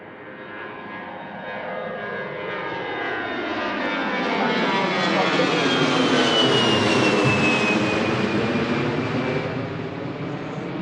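An airliner lands at Washington Reagan National Airport, its jet roar swelling from moderate to loud and close, then holding steady as it passes on the runway.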